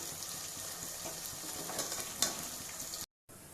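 Chicken liver boils in a pan with salt and turmeric while being stirred, a soft bubbling hiss with light scraping and a brief clink, then a short cut to silence.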